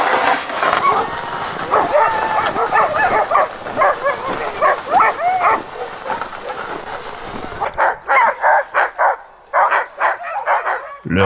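Sled dogs in a polar winter camp bark, yip and whine excitedly at feeding time, a dense chorus of overlapping calls that thins into sharper, separate barks and whimpers near the end.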